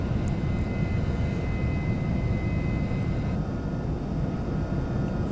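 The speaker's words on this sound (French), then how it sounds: "ça y est, les moteurs sont partis." Rafale Marine jet engines run steadily after start-up in Microsoft Flight Simulator, a loud, unbroken roar with a whining tone on top that holds level throughout, heard alone without talk.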